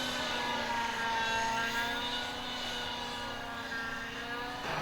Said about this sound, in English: the most difficult aerobatic maneuvers flown by any computer-controlled helicopter